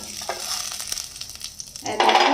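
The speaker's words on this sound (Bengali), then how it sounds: "ড্রাই ফ্রুটস, কাজু বাদাম দিলাম, আমন্ড, পেস্তা, কিশমিশ, এগুলোকে একটু ভেজে নিচ্ছি" Cashews, almonds, pistachios and raisins frying in ghee in a wok, a soft steady sizzle with light stirring scrapes, swelling louder near the end, no voices.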